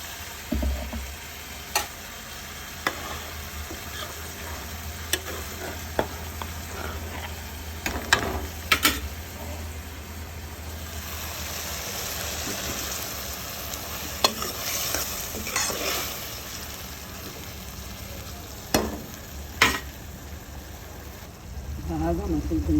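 Okra tamarind stew simmering in a pan, a continuous bubbling sizzle with scattered sharp clinks and stirring knocks, steady at moderate loudness with a low hum beneath.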